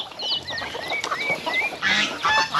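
Turkeys and chickens on a free-range farm call out together, with overlapping honking and clucking cries and high chirps rising over a steady bed of flock noise, fairly close and continuous.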